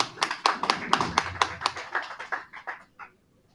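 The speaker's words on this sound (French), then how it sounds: "On l'applaudit aussi." Audience clapping for a political list at a municipal meeting, a few dozen distinct hand claps in a loose, uneven rhythm that thins out and fades to silence within a few seconds.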